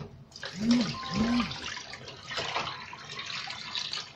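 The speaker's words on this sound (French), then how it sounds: "Je vais vider le faitout." Water is poured out of a cooking pot after washing leek greens, a close splashing gush that surges, eases and trickles, with a couple of brief tonal squeaks early on.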